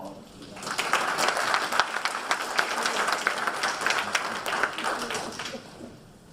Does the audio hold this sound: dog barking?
no